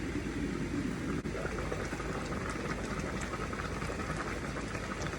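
Thai curry with frog and taro coming to a rolling boil in a pot, a steady, dense bubbling hiss that stays constant and close throughout.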